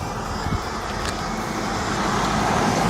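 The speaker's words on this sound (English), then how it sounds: "Here comes another car." A car passes on a road in Crete, a steady broadband roadway rumble that swells gradually louder toward the end, close and fairly loud, with no talk.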